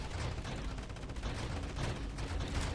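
Video game turrets fire on an attacking hive in a dense, unbroken barrage of rapid shots, loud and close for the whole stretch with no pauses.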